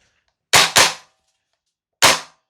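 A VFC Umarex HK UMP .45 gas blowback airsoft rifle fires BBs: two quick loud sharp reports close together, a pause, then a third, each with a short metallic gas-blowback decay, in a quiet setting.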